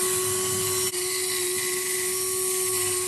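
A car headlight on a Renault Twingo being sanded with a 2000-grit disc on a rotary tool, a steady high-pitched whirring whine held throughout at close range with a brief dip near the start.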